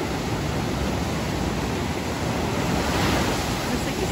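Surf washing onto a beach at night as the tide comes in, a steady broadband roar of breaking waves with no clear pauses, close and fairly loud, with some wind rumble.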